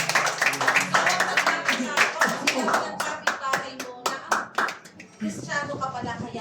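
A church congregation claps in quick, sharp strokes that start dense and thin to scattered claps, with a voice talking over them near the end.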